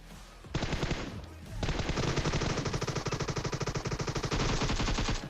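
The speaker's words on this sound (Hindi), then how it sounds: "अब यहाँ पर मेरे ऊपर गंदा फायर हुआ था" Automatic gunfire in the battle royale game PUBG: a short burst, a brief pause, then a long, loud, rapid volley of closely spaced shots with a steady rattling rhythm, heard alone without talk.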